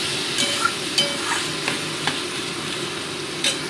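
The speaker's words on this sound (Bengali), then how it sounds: "মোটামুটি এটাকে 2 মিনিট আমি ভালো করে কষিয়ে নিচ্ছি" Potato and onion cooking down with spice paste and a splash of water in a pan for a dum aloo soybean dish, a steady close sizzle broken by several sharp scraping stirs of a spoon.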